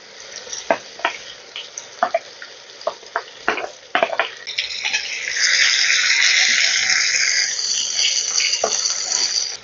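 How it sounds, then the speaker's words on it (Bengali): Chopped onion frying in oil in a pan with besan and methi, a soft sizzle that swells into a steady hiss after a run of clinks and stirring taps. "এবারে আমি দিয়ে দিচ্ছি পেঁয়াজ কুচিটা।"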